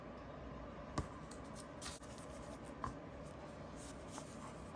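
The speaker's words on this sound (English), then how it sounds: "we're ready to do a writing test with this new vintage pen." A vintage Sheaffer fountain pen scratches and glides across a clean sheet of paper, a faint, close, continuous writing sound with a few soft taps and strokes and no talking.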